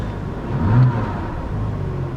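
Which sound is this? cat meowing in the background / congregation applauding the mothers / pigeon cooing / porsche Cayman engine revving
porsche Cayman engine revving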